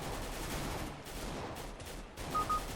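Rapid gunfire in CS:GO during an Overwatch replay review, a steady burst of shots over dense game noise, with a few sharper cracks near the end.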